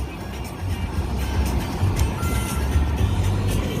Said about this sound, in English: Let me turn my car off.